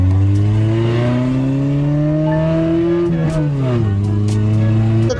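A car engine drones loud and close, its pitch climbing steadily, then dropping sharply mid-pass before settling into a steady hum again, with no talk over it.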